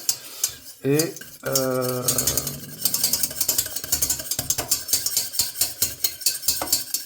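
Butter being whisked into a hollandaise sauce, with a fast, regular metallic clicking of the whisk against the bowl that grows steadier after a brief pitched squeak and a short word from a voice.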